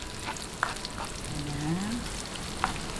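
Ginger sautés in a pan for bangus tinola, a soft, faint crackle with a couple of sharp clinks from a utensil, heard alone at low level.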